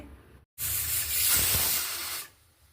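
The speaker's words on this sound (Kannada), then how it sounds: "ಕುಕ್ಕರ್ 1 ವಿಜಿಲ್ ಆಯಿತು" A pressure cooker cooking moong dal payasam lets out one loud, rushing whistle of escaping steam lasting about two seconds, then falls quiet.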